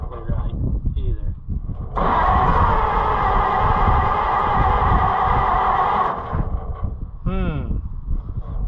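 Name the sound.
Oliver 70 tractor engine running on starting fluid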